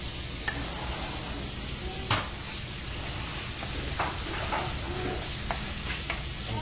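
Ground beef fries with a steady low sizzle in a pan while a utensil scrapes and stirs it in occasional sharp clicks, one louder knock near the start, no voices.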